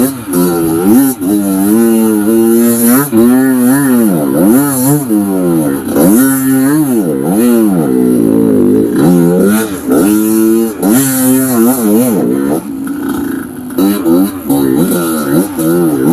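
A trail motorcycle rolls downhill in first gear on a mountain trail ride, its engine loud and close with repeated rising and falling revs as the throttle is blipped and released, with brief drops between surges.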